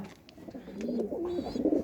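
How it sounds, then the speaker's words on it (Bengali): Pigeons kept in a rearing loft coo in soft, repeated low calls, close and fairly quiet, with a few higher chirps mixed in. "আর এই হচ্ছে এখন কবুতর"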